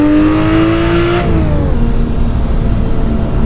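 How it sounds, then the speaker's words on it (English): A Porsche in the Targa Florio 1973 racing game revs hard for a burnout. Its engine whines high and steady, then drops in pitch and settles into a loud, rough, sustained drone. "A little burnout there in the Porsche."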